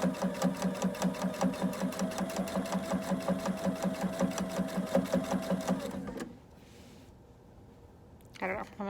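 A home sewing machine stitches a drawstring with a rapid, steady mechanical whir and clatter for about six seconds, running somewhat irregularly, then stops, leaving quiet room tone and a brief final rustle.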